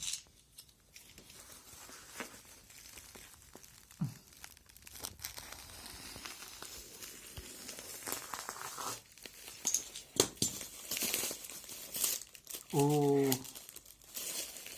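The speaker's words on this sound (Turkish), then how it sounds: "Bunu böyle artık keseceğiz. Maket bıçağımız nerede bizim? Kesip açacağız bunu." A cardboard parcel from a bulk shipment is cut open with a utility knife. Scattered crinkling, scraping and tearing sounds come up close, with heavier ripping bursts near the end, and a voice breaks in briefly.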